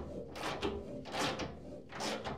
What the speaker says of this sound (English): We're going to slide our ratchet on with our 16mm socket